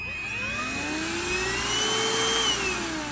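A MOOSOO U1400-PLUS 1400W upright pet vacuum cleaner runs steadily and loudly nearby, its motor whine rising slightly in pitch and then easing back down.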